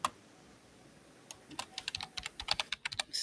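Typing Python code on a computer keyboard, starting with a few isolated keystrokes after a quiet stretch, then a quick, close run of crisp key clicks.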